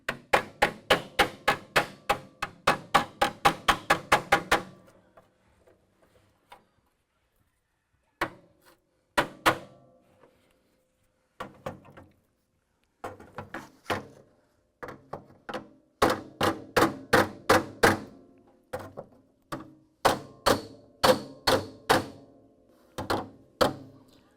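Rapid series of sharp hammer blows on Mustang car body metal, repeated in bursts with pauses between, close and loud.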